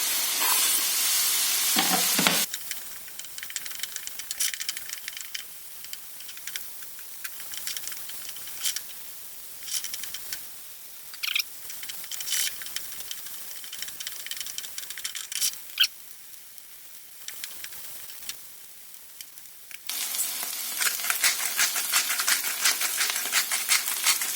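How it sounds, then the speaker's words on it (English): Garlic frying for majadra, a steady close sizzle with occasional stirring scrapes, louder at the start and end, no talking. "Now I'm adding the garlic."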